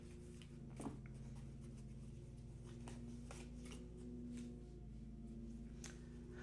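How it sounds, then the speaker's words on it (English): Tarot cards being shuffled by hand, a soft continuous riffling and sliding of card stock with a few sharper flicks, close and fairly quiet over a steady low background hum. "I keep on pulling the same cards over and over again, and I am shuffling them"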